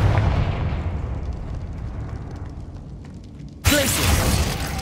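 Confringo fire-blast spell in the Hogwarts Legacy video game, a muffled explosive rumble fading over a few seconds, then a sudden bright crackling burst near the end, loud and close with no talk.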